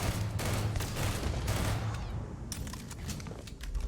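Video game gunfire, dense bursts of shots rattling continuously under a loud, busy mix, with no clear pause between reports.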